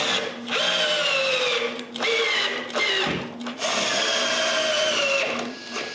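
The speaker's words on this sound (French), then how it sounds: "Je perce et je visse le dessus en place." Power drill boring into and driving screws through a wooden table top in a woodworking shop, several loud whining bursts with rising pitch, separated by brief pauses.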